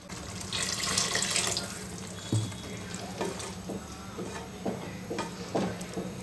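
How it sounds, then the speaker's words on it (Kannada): Water pours and splashes into a pan of methi paneer gravy over a soft sizzle, followed by a few light stirring clinks and scrapes, fairly close and quiet. "ನೋಡಿ ಇನ್ನು ಸ್ವಲ್ಪ ನೀರು ಹಾಕ್ತೀನಿ"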